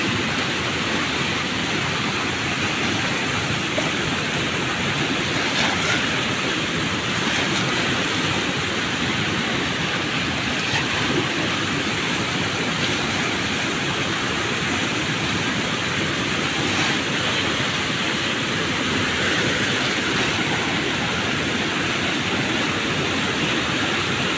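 A loud, steady roar of rushing water fills the whole stretch, constant and broadband with no pauses.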